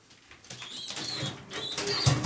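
Soft cooing calls from racing pigeons, close by, with a few low throaty coos and rustling in the background.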